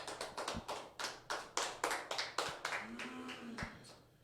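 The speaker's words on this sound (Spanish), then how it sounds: "Vamos a darle un fuerte aplauso al Señor." A church congregation gives applause to the Lord, a fairly small group clapping in distinct, rhythmic bursts that stay moderately close, with a brief voice in the background.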